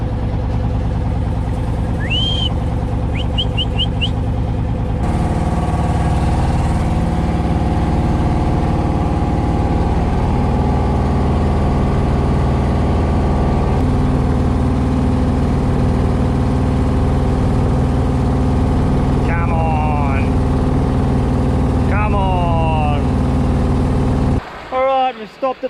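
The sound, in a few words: motorboat engine running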